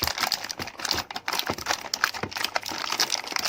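Packaging being opened on a Daiso non-stick cookware set, with steady crinkling and rustling of plastic and cardboard close up, broken by small tapping knocks and no talking.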